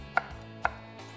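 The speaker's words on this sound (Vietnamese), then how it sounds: "Cuối cùng thì ớt sừng quý vị khán giả sẽ cắt lát." Two sharp knife chops on a cutting board as horn chili peppers are sliced, crisp and close, separated by about half a second with quiet between.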